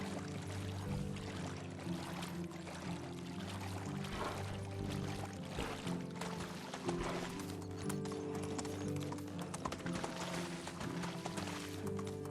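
A donkey's hooves clip-clopping in Minecraft, a steady run of quick hoof taps over a constant backdrop of layered game music, no talk.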